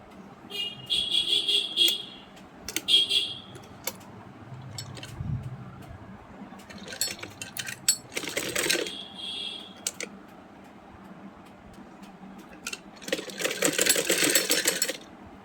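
A sewing machine stitches lace onto a kameez in several short rattling bursts separated by pauses, the last burst the loudest and longest, with light handling clicks between.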